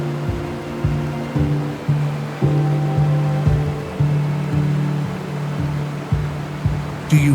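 Rushing water from a waterfall in the Siberian wilderness, a steady broadband roar mixed with wind and rustling trees, with low rhythmic thumps and a faint tonal hum running underneath throughout.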